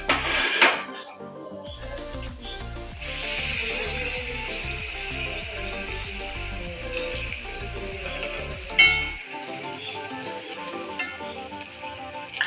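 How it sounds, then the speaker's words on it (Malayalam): Papadam frying in hot coconut oil, a steady close sizzle with crackling bursts and occasional clinks of a pan and utensils, running continuously. "നമുക്കതിലേക്ക് പപ്പടം വന്നിട്ട് വറുത്തെടുക്കാം കേട്ടോ"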